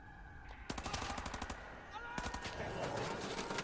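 Automatic gunfire from the video game Wolfenstein on easy difficulty, two loud rapid bursts of shots over a busy game soundscape, the second burst longer and sustained.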